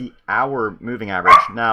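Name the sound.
dog barking in the background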